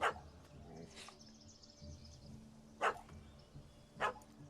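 A puppy barks in The Witcher 3 after chasing a cat up a tree, a few short separate yaps at moderate distance over a low ambient game hum, with faint bird-like chirps in between.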